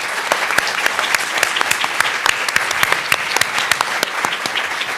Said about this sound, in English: join me in a big round of applause for our incredible panelists